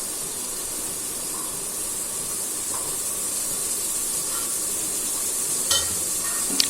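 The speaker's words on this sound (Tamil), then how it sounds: "பச்சை ஸ்மெல் போகிற வரைக்கும் நல்லா அதை வந்து வதக்கிங்க" Mint and coriander leaves sautéing in a pan for mutton biryani give a steady, close hiss and soft sizzle throughout, with faint stirring scrapes and a small clink near the end.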